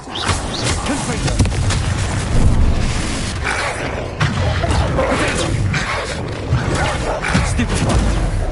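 A fire explosion spell goes off in Hogwarts Legacy, dense crashing and booming with repeated impacts and rumbling debris. The noise stays loud and busy throughout amid chaotic combat effects.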